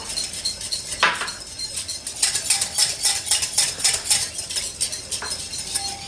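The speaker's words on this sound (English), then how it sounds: "As I whisk, the oil gets incorporated into the emulsion." Whisk clinking against a bowl while oil is whisked into a vinaigrette dressing: steady, close, rapid metallic ticking and scraping with brief pauses, louder in the second half, no talk.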